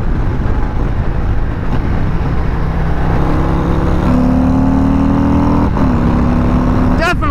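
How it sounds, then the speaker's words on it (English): A 2021 Harley-Davidson Road Glide CVO cruising on a highway, its engine drone steady and close with the pitch rising as it accelerates, over continuous wind and road noise. "this bike is it's like a dream to ride on the highway"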